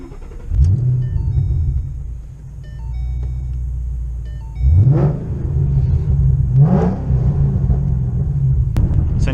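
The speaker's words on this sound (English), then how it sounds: "So we'll go ahead and start it right up." A 787 wheel-horsepower Shelby GT500 fires up with a loud cranking start, settles into a deep rumbling idle, then takes two sharp revs that rise and fall, close and loud, with no talking.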